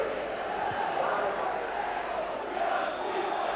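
Capacity football crowd of about 24,600 at Love Street stadium for St Mirren against Rangers, a steady, dense roar of massed voices and cheering filling the ground without pause.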